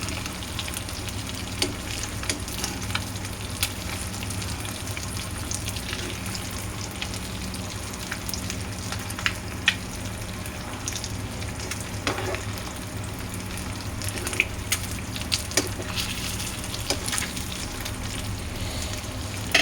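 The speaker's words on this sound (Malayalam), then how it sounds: "ഒരു 3-4 വട്ടം തിരിച്ചും മറിച്ചും ഇട്ടിട്ട് നമുക്കിതിനെ വറുത്തെടുക്കാം" Pepper fish fry sizzles steadily in a pan of hot oil, a continuous crackling hiss with scattered sharper pops throughout, close and moderately loud with no talking.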